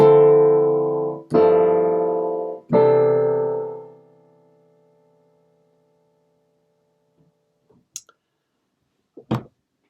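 Three sustained jazz piano chords ring out one after another in a progression, each struck and left to decay, followed by silence and a few faint clicks.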